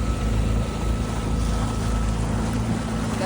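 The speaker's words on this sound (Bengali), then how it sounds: "দেখো আমাদের বোট যাচ্ছে," A tour boat cruising on the backwaters of Kerala, its engine a steady low drone with water wash and wind buffeting the microphone, continuous and close throughout with no talk.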